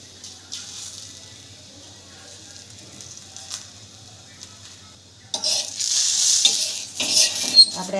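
Oil hitting a hot tawa while palak thepla cooks, quiet low background at first, then a sudden louder hiss and sizzle rising midway and continuing with faint clatter.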